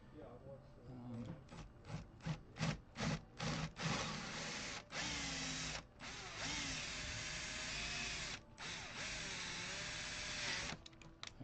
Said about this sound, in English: This is the biggest hole that I have to drill in this portion of the neck.